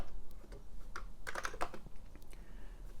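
Keys clack on an Amiga 3000 keyboard as a drive name and colon are typed at a command prompt, a quick run of close, crisp keystrokes with a pause before a final few taps over a low computer hum.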